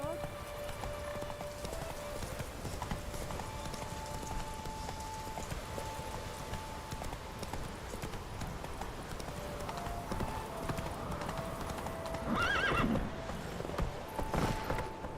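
In The Witcher 3 video game, a horse's hooves clip-clop steadily along with a brief whinny near the end, heard under quiet background music and some speech.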